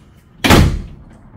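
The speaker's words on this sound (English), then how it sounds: "Just slam the door in their face." A door at a police station slams shut in a single loud, close bang with a short reverberant thud that quickly fades, with no voices.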